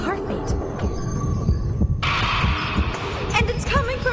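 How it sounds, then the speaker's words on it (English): A heartbeat pulses as a low, throbbing thump beneath a dense hum and a busy film soundtrack, a continuous rhythmic beat filling the whole stretch at fairly loud volume. "It's a heartbeat."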